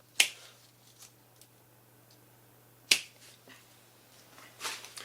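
Sharp secateur snips cut branches from a penjing tree, heard as two crisp close clicks spaced a few seconds apart, with softer rustles and a final muffled cut in a quiet room.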